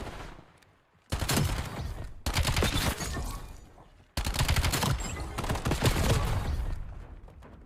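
Bots in Call of Duty unleash long bursts of rapid automatic gunfire, loud and dense, broken by brief pauses between volleys.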